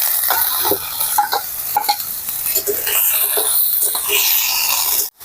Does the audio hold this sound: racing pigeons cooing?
no